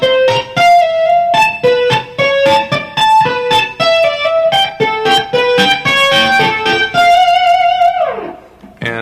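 An electric guitar played through distortion picks out a quick run of bright, separate notes, loud and close. It ends on a held note that bends down and fades.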